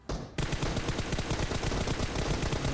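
Rapid automatic gunfire bursts from the mobile battle royale game Battlegrounds Mobile India, loud and close, with sharp repeated cracks running almost continuously after a brief quiet start.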